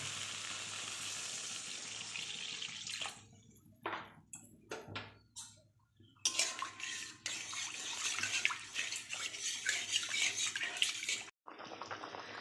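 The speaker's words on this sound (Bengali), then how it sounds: "এবার আমি জল দেব" Water poured into a pan of potatoes and spices fried in oil for a Bengali katla fish and eggplant curry, a loud hiss and sizzle that breaks off into splashing bursts, close up with no talking.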